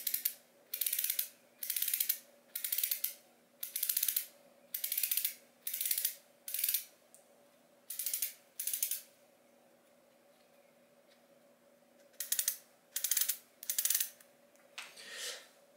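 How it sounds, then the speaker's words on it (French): A Boulhol bicycle hub's freewheel body ratchet buzzes in short bursts as it is spun, a rapid clicking repeated about a dozen times with quiet gaps and a faint steady hum beneath. "Voici le fonctionnement donc que vous avez pu entendre du corps de roue libre."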